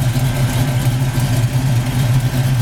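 A 1966 Ford Fairlane's engine runs steadily at close range, a loud, even idle with a low throbbing rumble and no voices.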